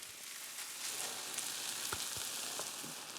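Butter melts and sizzles softly in a pan, a quiet steady frying hiss with a few faint clicks and light knocks of a utensil nearby.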